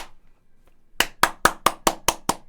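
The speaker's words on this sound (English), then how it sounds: "even I'm clapping" Nine sharp hand claps, one person clapping in a quick, steady rhythm, close and loud after a near-silent start, cheering on a Cowboys vs Patriots football game.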